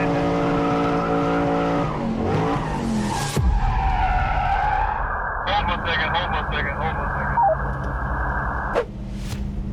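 A completed custom 1969 Pontiac GTO drives hard with loud, sustained tire squeals and skidding, and the engine note rises and shifts between squeals.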